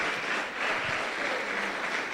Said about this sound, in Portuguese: Porque as mães merecem um aplauso.